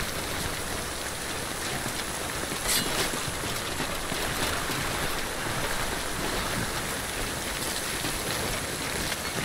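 Steady, dense rain falls in the Death Stranding video game, a close and continuous hiss of drops with no talk.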